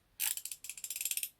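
Ratchet wrench clicking as 14 mm and 19 mm sockets turn fasteners on the fork of a Honda NSC50 Vision scooter during a fork seal replacement; a rapid run of close, crisp clicks in two bursts with a short pause between.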